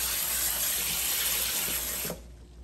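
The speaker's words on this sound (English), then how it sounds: "now I'm going to rinse these off just a little bit. With some cold water." Cold tap water runs steadily into a kitchen sink as food is rinsed under it, a continuous close splashing gush that cuts off abruptly near the end.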